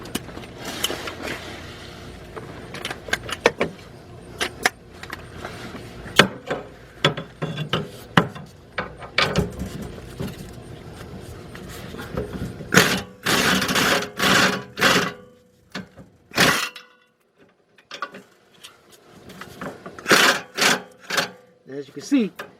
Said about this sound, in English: So let me hook up my air gun.